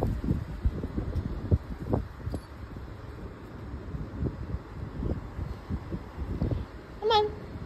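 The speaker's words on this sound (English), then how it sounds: "But it is windy." Gusty outdoor wind buffets the microphone in low, uneven rumbling bursts, with a short voice near the end.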